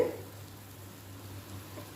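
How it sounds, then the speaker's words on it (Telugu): Tamarind leaf chutney cooks in tempering oil, giving a faint, steady, low sizzle with no clear breaks. "కొంచెం ఒక ఐదు నిమిషాలు తాలింపులో ఇలాగ మగ్గనివ్వండి"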